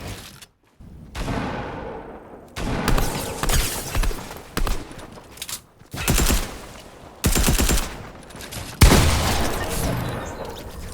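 Gunfire hitting a wall in Fortnite, with several loud bursts of rapid automatic shooting separated by short gaps, each burst crackling and dense, close and dominant.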